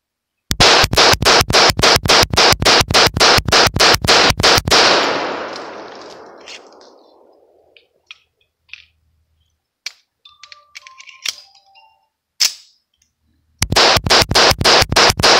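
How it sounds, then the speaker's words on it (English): An ATI 1911 .45 ACP pistol fed from a 15-round extended magazine fires a loud, evenly spaced rapid string of about fourteen shots. A long ringing decay and a few small clatters follow, then another rapid burst of shots begins. "Now mag dump with the 1911."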